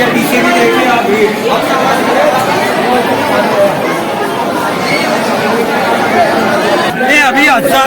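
Devotees thronging the Mahakal temple make a steady, close wash of overlapping chatter and murmuring voices, loud and unbroken for the whole stretch.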